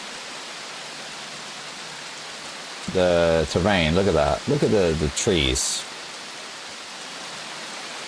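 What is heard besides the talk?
rain in the video game Prologue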